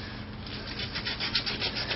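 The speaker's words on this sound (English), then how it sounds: "Come in with some sandpaper, clean these up a little bit, and lubricate them before installing the new shoes." Sandpaper rubbed by hand over a drum brake backing plate during brake shoe replacement: close, steady scratchy strokes with a gently pulsing rhythm and no talking.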